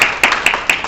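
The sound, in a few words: clapping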